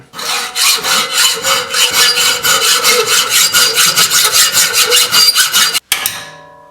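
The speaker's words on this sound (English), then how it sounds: "I'm going to go to the age-old practice of the hacksaw" A hacksaw cuts through a steel coil spring in loud, rhythmic rasping strokes, roughly three per second, close and steady, ending with a sharp stop and a brief ringing tail.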